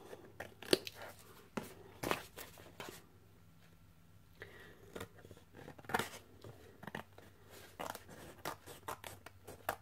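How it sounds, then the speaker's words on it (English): Sharp crisp snips of scissors cutting paper, several quick cuts spaced irregularly, close up with quiet handling noises between them. "I'll just grab my scissors here and just trim that off"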